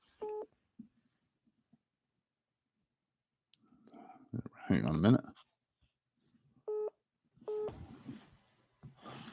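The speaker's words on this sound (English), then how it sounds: "Got the phone going off" Google Voice call-connecting tones beep in short bursts from a phone, spaced across the clip with silent gaps between them, and a person briefly speaks over a rustling moment in the middle.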